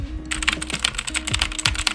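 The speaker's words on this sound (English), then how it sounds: "I have this keyboard that used to be my dad's, but he decided to get a different one because this one was too clacky." Rapid, continuous typing on a clacky computer keyboard, sharp close-up key clicks in a quick irregular rhythm with no voices.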